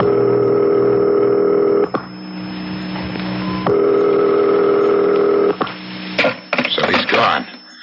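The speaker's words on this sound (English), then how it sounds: "Dial. I'll call his private number." A telephone dialed in an old-time radio mystery drama: a steady dial tone broken by two short bursts of dialing, then clicks and a brief clatter as the line connects, loud and close.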